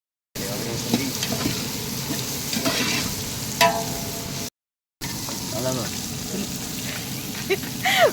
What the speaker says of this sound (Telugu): నెయ్యి వేసాడు తర్వాత ఉల్లిపాయలు వేసాడు ఏగిస్తున్నాడు